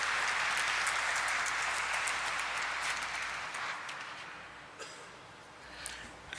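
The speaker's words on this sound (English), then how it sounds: "A nice big round of applause, ladies and gentlemen." Audience applause at a stock exchange listing ceremony for a finance company, steady broad clapping from a crowd that gradually thins and fades toward the end.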